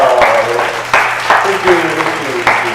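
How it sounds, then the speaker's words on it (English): Audience applause breaks out after a demonstration at a live science show on electrostatics, a brief scattered burst of clapping with talk carrying over it. "A round of applause, people!"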